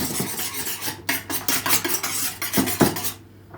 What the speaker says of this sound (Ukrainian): ще раз вимішуємо. До однорідності.